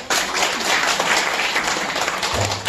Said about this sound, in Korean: 동의하시는 분만 박수